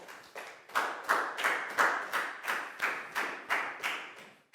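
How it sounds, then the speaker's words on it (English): A Year 4 maths class claps together for a student, about a dozen loud, evenly spaced unison claps in a steady rhythm, close and clear with little else around. "Big round of applause for Pak Bung,"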